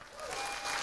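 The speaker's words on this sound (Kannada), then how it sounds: "ಮತ್ತೆ ಚಪ್ಪಾಳೆ" A short burst of audience applause at a Networkers Day program, steady broadband clapping of moderate loudness lasting under a second, with no talk over it.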